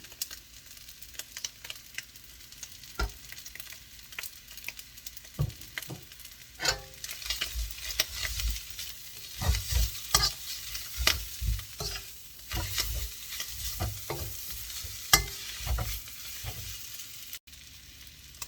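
Glass noodle vermicelli is stir-fried with oyster sauce and no pork in a hot pan, a Thai dish: steady sizzling under repeated scraping and tossing strokes of a utensil, growing busier as the stirring goes on.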